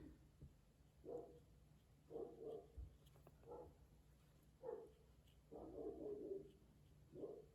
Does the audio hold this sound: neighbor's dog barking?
yes